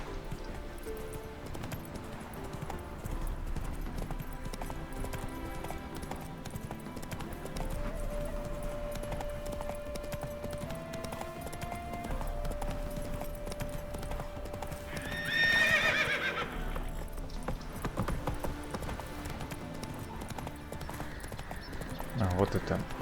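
Roach, Geralt's horse in The Witcher 3: Wild Hunt, galloping through Velen: a rapid, steady clip-clop of hooves with a loud neigh partway through, over game music, while someone talks over it.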